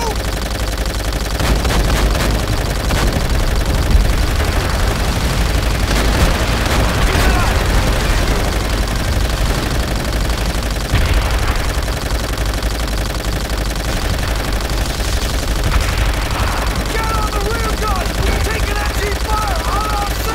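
Dense gunfire and explosions in a World War II battle in Call of Duty: World at War, a steady, loud, continuous barrage of shots and booms with voices calling out beneath the din.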